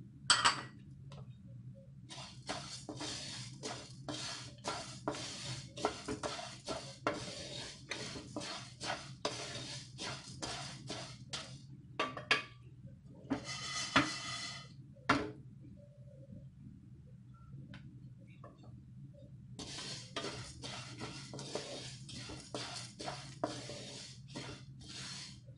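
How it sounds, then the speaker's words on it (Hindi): Moong, chana, toor and masoor dal are roasted in a pan, with intermittent dry scraping and rattling strokes of a spoon coming in clustered bursts separated by quiet stretches over a low steady hum. "अब हम पैन में रोस्ट करेंगे मूंग दाल, चना दाल, तुअर दाल, मसूर दाल,"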